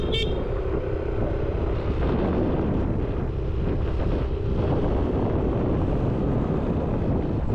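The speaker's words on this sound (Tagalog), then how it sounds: "Ito na naman yung mahangin mga kabisig." Strong wind blows outdoors, buffeting the microphone with a loud, steady roar that fills the whole stretch without a break and with no voices.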